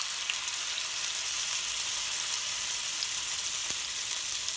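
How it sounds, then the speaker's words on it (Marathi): Pieces of ravas fish fry in hot oil, a steady, bright, crackling sizzle at an even level throughout with a few small pops and no talking. "आता हे जे पीस आहेत ते आपण एक एक करून सोडायचे तेलामध्ये"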